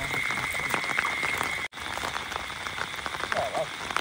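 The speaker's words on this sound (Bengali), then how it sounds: "সমান বৃষ্টি দাদা, সমান বৃষ্টি হচ্ছে।" Steady rain patters down on a farm field in a dense, even hiss, with faint voices in the background.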